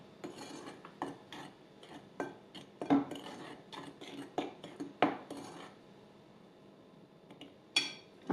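Flour, baking powder and salt for tart dough are stirred in a bowl with a utensil, giving a quiet series of uneven scraping and clinking strokes that pause near the end.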